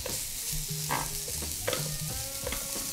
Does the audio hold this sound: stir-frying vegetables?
yes